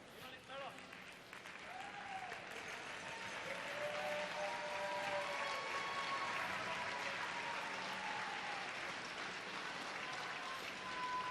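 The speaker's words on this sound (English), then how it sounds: "Round of applause as he heads up." Crowd applause at a men's world championship curling final between Norway and Sweden, a sustained steady clapping swelling and holding across the arena while a commentator speaks over it.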